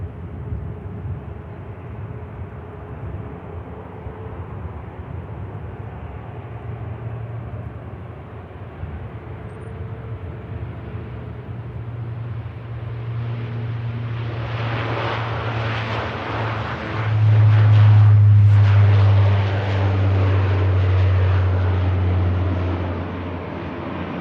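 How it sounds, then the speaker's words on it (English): Luxair plane departing Manchester Airport in rain, a low engine drone building into a loud roaring take-off surge in the latter half, heard from a distance without talk. "Let's turn our attention now to the Lux Air departure."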